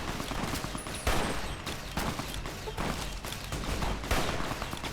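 Rapid gunfire in the Fallout: New Vegas video game, dense bursts of shots overlapping into a continuous loud barrage with a few stronger cracks standing out.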